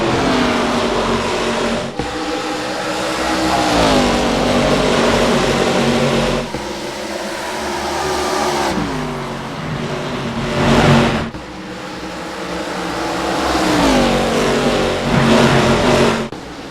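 NASCAR stock cars accelerate off the start at Dover in iRacing, their engines revving up repeatedly in rising pitch sweeps, loud and close, with shifts between gears.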